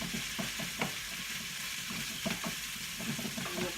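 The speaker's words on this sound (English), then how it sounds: "I'm kind of stirring this as it's starting to cook to break up the pieces." Bacon sizzles and crackles steadily in a pan, with soft scraping knocks from stirring to break up the pieces, close and fairly quiet.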